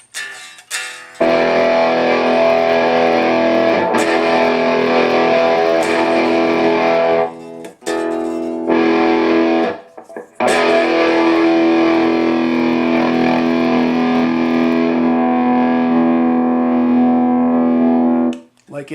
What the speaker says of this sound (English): it's a lot more of like a hard clip type of distortion